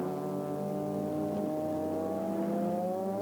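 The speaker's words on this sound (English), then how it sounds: "it may be an 8-litre V10 Viper" A Dodge Viper 8-litre V10 race car engine roars steadily at high revs at a circuit race, its pitch climbing slowly as it holds a loud, sustained drone.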